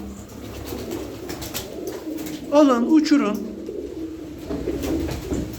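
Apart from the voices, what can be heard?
pigeons cooing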